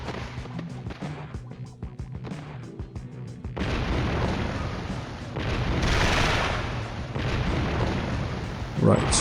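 Rocket launcher blast in the unreleased PS2 game 100 Bullets, a loud broad boom that swells around the middle and lingers amid gunfire-like game noise, with a sharp burst near the end.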